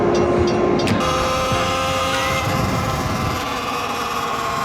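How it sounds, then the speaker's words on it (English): Train passing a railway crossing on an early morning ride: a loud, steady rumble of rolling rail cars with a sustained tonal hum, continuous throughout without talk. "Is the train crossing broken?"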